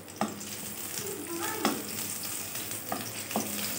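Shallots, garlic and chilli sauté in a pan with a steady, close sizzle, broken by a few sharp scrapes and clicks of a stirring utensil, and no talking.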